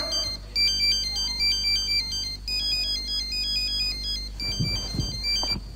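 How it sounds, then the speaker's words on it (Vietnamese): A mobile phone ringtone rings loudly and steadily as a repeating electronic melody during a Hanoi stage comedy performance, with faint stage noise near the end. "Điện thoại của em đấy, nghe đi,"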